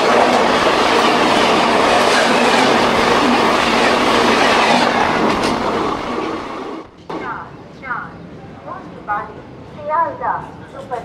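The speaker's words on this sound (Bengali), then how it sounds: "গাড়ি কিন্তু ভালোই স্পিডে চলছে।" The Kolkata–Haldibar express train runs at speed with a loud, dense roar and clickety-clack of wheels for about six seconds, then the noise drops away abruptly and a person starts talking.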